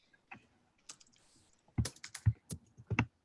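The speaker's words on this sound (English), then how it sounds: "I was typing too quickly" Keys on a computer keyboard clatter in quick, irregular bursts of typing, a few sparse taps first and then a denser run of clicks, close and clear in a quiet room.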